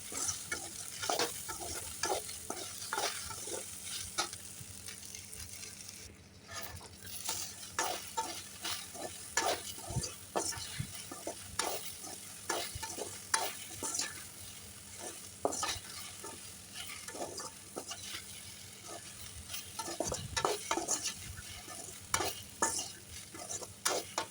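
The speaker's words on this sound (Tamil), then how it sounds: "நான் வந்து தனியாக எண்ணெய் ஊற்றி வெண்டக்காயை மட்டும் தனியாக வறுத்து எடுத்துக்கிறேன்" Sliced okra shallow-frying in oil in a pan for a tamarind kuzhambu gives a soft continuous sizzle, broken by frequent sharp clicks and scrapes of a spoon stirring against the pan.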